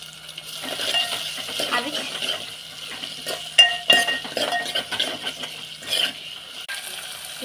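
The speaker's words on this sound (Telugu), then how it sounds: "జీలకర్ర ఇంకా ఆవాలు. గోల్డెన్ బ్రౌన్ వచ్చే వరకు ఫ్రై చేసుకోండి." Cumin and mustard seeds fry in oil in a pan, a soft sizzle with scraping stirs and occasional metallic clinks of a spoon against the pan, while a voice speaks briefly.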